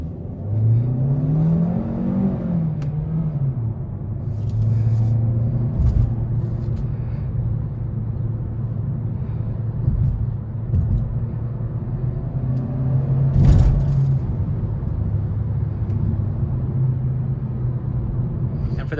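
A 2020 Hyundai Sonata on a test drive, its engine and road noise forming a steady low rumble with a rising rev near the start and a brief louder swell midway, heard from inside the cabin without talk.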